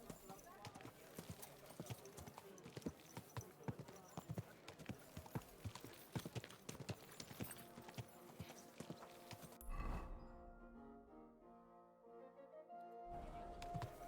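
Horse hooves clip-clop steadily and close in Kingdom Come: Deliverance 2, a rhythmic series of sharp strikes under game sound, stopping partway as someone talks and music swells.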